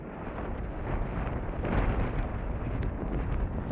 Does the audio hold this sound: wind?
yes